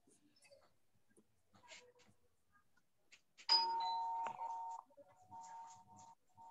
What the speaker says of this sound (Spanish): Sí, se oye un timbre de una casa.